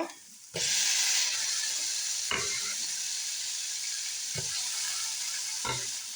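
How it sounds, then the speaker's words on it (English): Tomato pieces drop into a hot pan on medium-high heat and set off a loud, steady sizzle, with a few sharp stirring scrapes spaced through it as the frying hiss carries on alone. "So I'm going to add the tomato."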